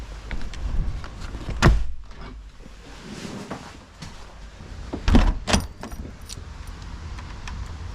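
Keys jangle while a shed door is locked outdoors before a van camping trip home, two brief clusters of metallic rattling and clicks up close against blustery wind noise, with no talking.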